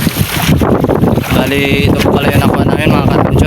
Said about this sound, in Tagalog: hangin tsaka alon.